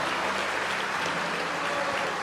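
A church congregation claps together in dense, steady applause, filling the room for a couple of seconds.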